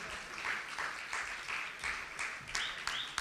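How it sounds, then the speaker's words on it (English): An audience claps for an achiever walking onto a stage at an awards event, a steady, fairly faint wash of applause with a few sharper claps standing out near the end. "Ladies and gentlemen, put your hands together for Adil Rizwan Sajan."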